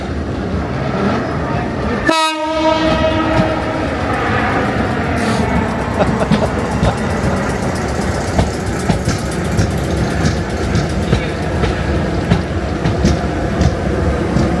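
Class 455 commuter train pulling into Waterloo station, a short loud horn blast early on, then steady rolling rumble and rail noise continuing throughout, with brief voices in the background.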